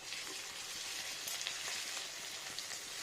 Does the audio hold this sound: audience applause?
no